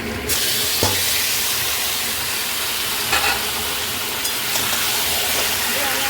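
Marinated chicken sautés with browned onions and spices in a pan, a dense, loud continuous sizzle with occasional stirring scrapes, close and steady throughout.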